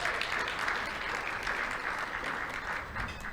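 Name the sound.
audience applause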